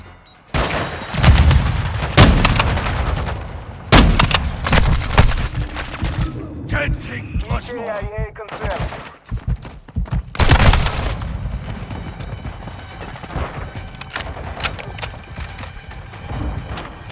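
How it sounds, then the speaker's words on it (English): Gunfire in Call of Duty: Modern Warfare II multiplayer: loud bursts of rapid shots and heavy booms crowd the battle, with sharp spikes throughout and game voices mixed in underneath. "Taking effective fire."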